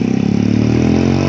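An off-road motorcycle passes close by on a mountain road, its mid-pitched engine droning loud and steady with a slight pitch shift as it goes.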